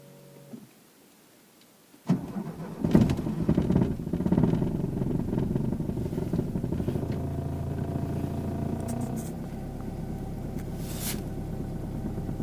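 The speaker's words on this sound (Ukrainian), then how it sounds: "Пробуємо завести стареньку Audi" An old Audi, roughly forty years old, after damp weather: quiet at first, then the engine catches and settles into a steady, loud, rumbling idle with a brief high rattle partway through.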